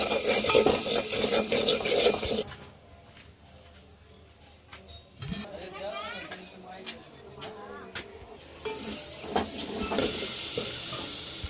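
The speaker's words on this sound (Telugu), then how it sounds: "రెండు స్పూన్లు కారం రెండు స్పూన్లు సాల్ట్ వేసుకున్నామండి ఇవన్నీ వేసుకొని కలిసి పెట్టుకున్నాం" Chili powder and salt being stirred into a pan, with metal spoon scrapes and clinks and a steady sizzle, louder at the start and end and quieter in between, while a voice talks over it.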